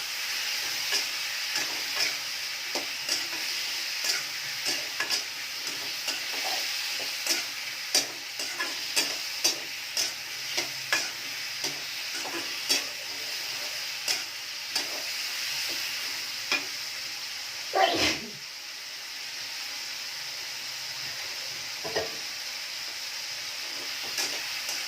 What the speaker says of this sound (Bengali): ভালোভাবে একটু কষাই নেব।